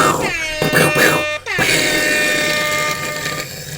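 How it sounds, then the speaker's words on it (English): Gunshot sound effects from a phone air horn app, loud synthetic blaring bursts with a sharp cutoff and restart partway through, harsh and distorted, played close to the mic. "That's a million bullets being fired at once."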